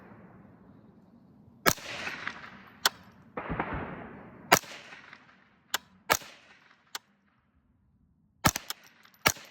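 An L119A22 rifle fires rounds at an outdoor range: sharp, loud single cracks spaced irregularly, about a dozen in all, some in quick pairs, with faint background noise between shots.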